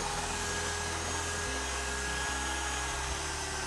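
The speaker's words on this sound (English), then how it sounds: "Now I'm kind of whipping this for just a moment or two." An electric mixer whirs loudly and continuously for a few seconds as a batter is whipped, its motor hum dipping slightly in pitch partway through, with no talking.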